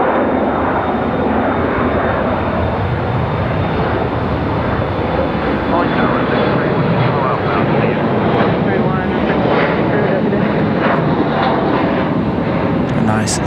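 An airliner departing from runway 23 right at Raleigh-Durham International at sunset: a loud, steady broadband engine roar holding throughout with a thin high tone, while radio chatter and talk run underneath.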